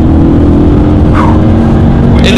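A race car's engine drones loudly from inside the cabin during the Targa NZ rally, holding a sustained throttle with a brief rising whine, steady and close throughout.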